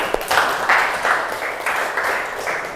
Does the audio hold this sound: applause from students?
yes